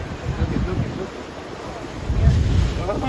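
Ocean water surges through a rocky blowhole at Islas Marietas, Mexico, heard from a tour boat as two rolling roars of whooshing water, with wind buffeting the microphone throughout.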